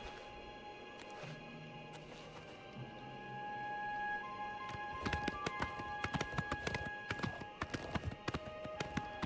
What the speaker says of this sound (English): Because we do have a horse, and horse works well on the road.